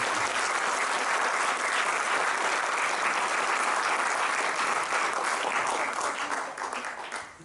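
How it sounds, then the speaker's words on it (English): A hall audience at a Guru Poornima gathering in Auckland, New Zealand gives sustained, dense applause that stays steady and full before tapering off at the end. "can we please give another big round of applause to that beautiful"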